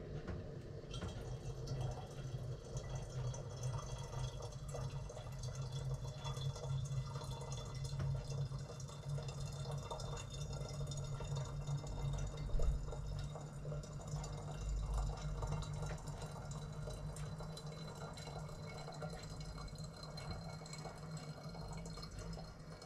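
Hot water pours steadily into a container being filled for brewing a barrel-aged porter, a continuous low rushing trickle that runs close and evenly throughout, with no speech.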